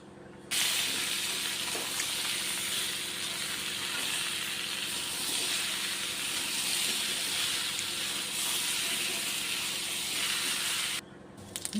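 Fish and vegetables frying in a pan for a Bengali fish curry, a loud steady sizzling hiss that runs nearly unbroken for about ten seconds, with no talking.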